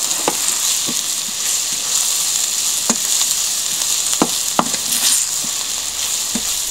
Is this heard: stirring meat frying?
yes